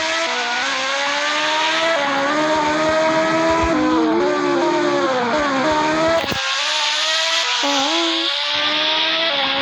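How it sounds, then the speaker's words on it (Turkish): A Ferrari engine in a Roblox racing game roars loudly and continuously, climbing through rising revs with gear-shift dips. It cuts off sharply midway and then revs back up, with no talk over it. "Ferrari bu arkadaşım"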